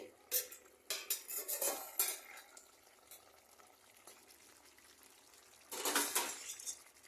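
A lid comes off a cooking pot of yogurt cauliflower curry with metallic clinks and clatter, close and brief, followed by a louder burst of rattling pan noise, with no talking.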